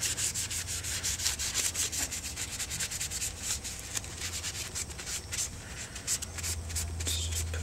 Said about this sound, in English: Put it on there ever so lightly. Rub it in.